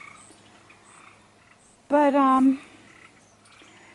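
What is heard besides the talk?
tree frogs singing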